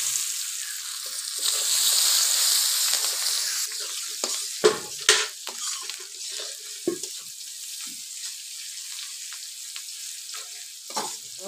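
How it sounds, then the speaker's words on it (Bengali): Onions frying in leftover fish oil with whole cumin, two dried red chillies and two bay leaves, a steady hiss that swells loudest early on, then settles into quieter sizzling broken by a few sharp scrapes and clatters. "পেঁয়াজ ভাজা হয়েছে"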